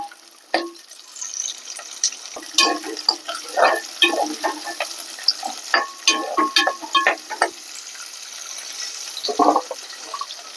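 Onions being sautéed in a pan for a fish curry: scattered scraping stirs and clinks over a soft sizzle, close by, with no voices.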